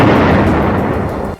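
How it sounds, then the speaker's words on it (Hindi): In Gaza, the Israeli army blows up a building rigged with explosives along with the weapons inside. A single loud, close blast rolls into a dense rumbling roar that fades only at the very end. "इजरायल की सेना ने बाद में उस इमारत पर विस्फोटक लगाकर उसे हथियारों समेत"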